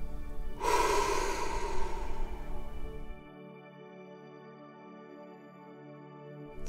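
A deep exhale during a guided hypnosis breathing exercise: one long, breathy rush of air that starts abruptly, stays full for about two and a half seconds and then fades, leaving quiet room tone.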